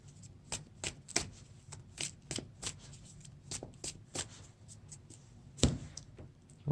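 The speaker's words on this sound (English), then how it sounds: "Now we each draw 6 cards." Playing cards drawn and handled for a Lord of the Rings card game, a string of crisp, close slaps and flicks at an uneven rhythm, with one louder snap near the end.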